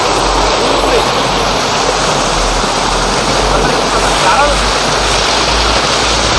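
A forest waterfall near Warangal pours in a loud, continuous rushing roar, close and unbroken from start to finish.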